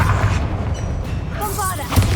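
A Confringo fire spell goes off in Hogwarts Legacy combat, a booming blast with low rumble that lands amid ongoing game music and effects, with a voice speaking over it.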